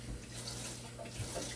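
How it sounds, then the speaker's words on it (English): Running tap water splashing into a sink as a cutting board is washed with soapy water after cutting shrimp, a short steady gush with no voices. "let me just wash my board up with some soapy water from the shrimp"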